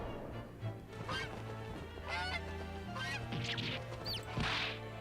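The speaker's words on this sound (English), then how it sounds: "I'm thinking that's a goose on her hat now." Goose honks in The Great Ace Attorney video game, several loud nasal calls in a row over a steady game music bed.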